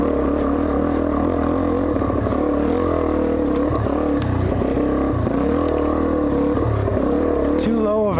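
A car engine drones and revs on a track in too low a gear, a steady strained hum with wavering pitch and occasional clatter, at a loud constant level.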